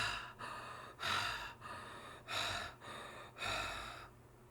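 A voice imitates heavy panting: six loud, breathy puffs in a steady rhythm, close up, with brief pauses between them.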